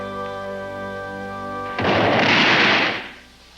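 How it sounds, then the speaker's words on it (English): Fireworks burst in a heavy, booming explosion over a summer sky in 1883, about fourteen tons of them set off to celebrate, the blast coming in suddenly after a steady hum and roaring for over a second before fading. "Over 14 tons of fireworks lit the summer sky."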